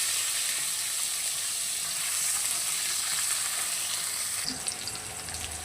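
Potato pieces hit hot oil with cumin seeds in a wok, giving a steady, bright sizzle of frying close by, with a brief clatter of stirring near the end and no talk.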